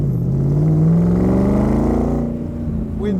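Close, loud V8 of a 1965 Shelby Cobra Factory Five replica revs and rises in pitch, then eases back near the end, with no voices over it.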